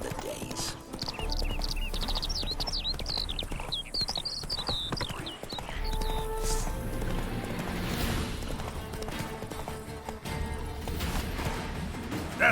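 The horse Roach gallops in The Witcher 3 game, hooves clip-clopping in a fast steady rhythm, close and continuous, with a bird-like chirping overhead and faint ambient game sounds behind.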